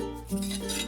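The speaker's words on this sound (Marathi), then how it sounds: "तर आता आपण याच्यावर परत झाकण ठेवूयात" A lid set back onto a pot of cooking lapshi (broken-wheat porridge sweetened with jaggery) gives a short metallic clink against a steady kitchen hum, close and fairly quiet.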